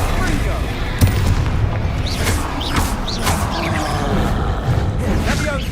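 Bombarda explosion spells go off repeatedly in Hogwarts Legacy, loud booming blasts with crackling debris over a constant rumbling din of combat, while a voice talks over parts of it.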